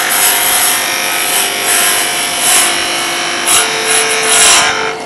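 A wooden sphere is turned on a lathe while the cutting tool rolls around it in a jig, producing a continuous loud rasping, whirring cut with slight swells in intensity.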